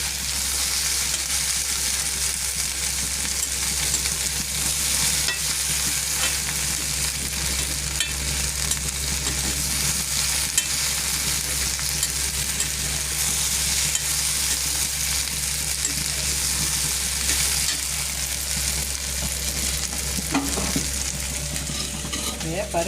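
Crushed garlic sautés in a pan while being stirred, a continuous close sizzle with scraping stir strokes throughout and no talking.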